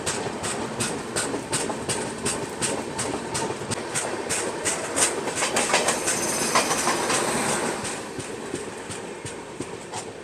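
Chennai Duronto Express running on rails during rain, steady clickety-clack of wheels over rail joints in a fast, regular rhythm under constant rumble and wind noise, close and loud throughout.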